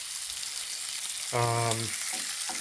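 Bacon sizzles in a frying pan, a steady close hiss of frying fat that runs through the whole moment, with a short voice breaking in over it partway through.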